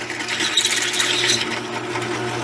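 A small drill press grinds steadily through metal, its belts slipping under light feed pressure, giving a continuous close rasping whine with a low motor hum beneath, no voices.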